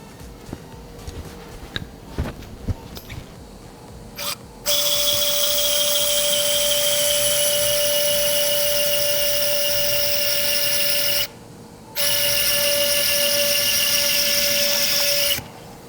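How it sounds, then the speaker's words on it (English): A high-pitched surgical drill whines steadily for several seconds, drilling holes in a Labrador's humerus through a guide, stops briefly, then resumes, after some clicks and handling sounds. "I'm putting a guide in position to drill some holes so I can put a piece of metal in the humerus"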